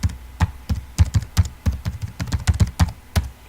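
Keys clatter on a computer keyboard as an email address and password are entered, a steady run of crisp, close taps with uneven rhythm and no voices.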